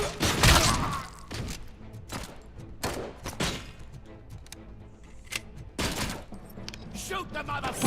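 Gunfire in the RoboCop: Rogue City video game on Xbox Series X, loud punchy shots in irregular bursts with sharp thuds between, and someone talking over the action.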